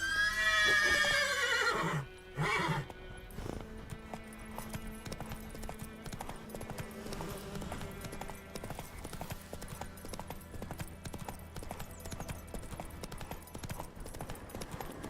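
Horse hooves clip-clop steadily while a horse neighs loudly near the start, over a continuous game-style music bed, in The Witcher 3: Wild Hunt.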